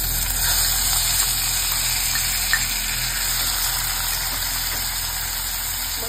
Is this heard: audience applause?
no